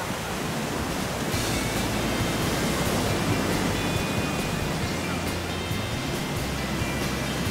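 Ocean surf rolls onto a long beach near Caracas, Venezuela, a steady broadband wash of breaking waves with some wind noise, continuous and fairly loud with no clear speech.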